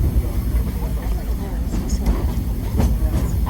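Disneyland Railroad train rolling along the rails toward New Orleans Square Station, a loud steady low rumble with faint clacks and squeals, under a recorded announcement voice.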